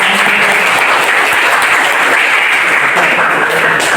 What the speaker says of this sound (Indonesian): Beri tepuk tangan buat kita semua ya.